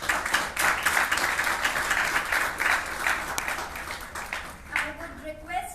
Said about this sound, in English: So we welcome him with a huge round of applause.